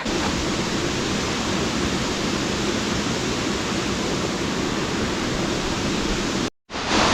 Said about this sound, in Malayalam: ഇതാണ് നമ്മളുടെ ആ ഒരു വെള്ളച്ചാട്ടം അത്യാവശ്യം നല്ല ഹൈറ്റ് ഉണ്ട്